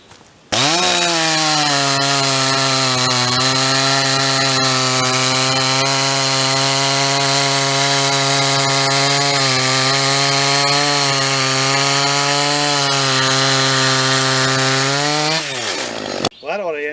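A chainsaw fitted with a Husqvarna chain cuts wood cookies in a cookie cut race, running loud and close at a steady high rev for about fifteen seconds, then winding down and stopping.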